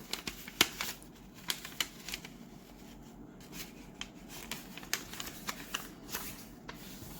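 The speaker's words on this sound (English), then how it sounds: "Open it up, turn it sideways, and fold it again." Paper for an origami tulip is folded and creased up close, giving a quiet run of crisp crackles and sharp rustling snaps at an uneven pace.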